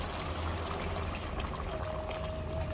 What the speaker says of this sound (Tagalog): maglalagay po tayo ng mainit na tubig